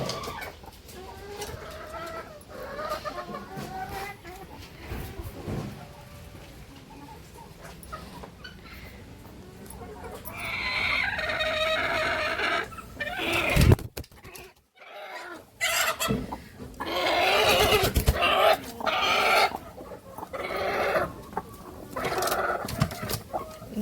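Naatikoli and Kadaknath hens on a farm clucking as they settle to lay eggs: repeated close clucks and squawks, rising into louder bursts of calls midway, with other fowl faintly in the background.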